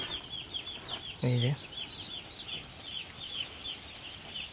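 Dense, continuous chatter of many young broiler chicks inside a poultry shed housing about 5,100 birds and fitted with nipple drinkers, high cheeping throughout, with someone speaking briefly over it.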